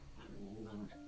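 A dog in the video game WILL: A Wonderful World gives a faint, low growl that rises into whimpering tones over about a second, quiet and alone.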